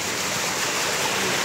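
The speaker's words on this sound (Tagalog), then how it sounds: "Ay, naku, baha." Flood water flowing along a street, a steady broadband rush heard close and moderately loud without pause.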